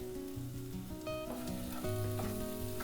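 Red chili powder, turmeric and green chilies sizzle in a pan on low heat for egg bhurji, a continuous close frying hiss with light stirring scrapes, no talking.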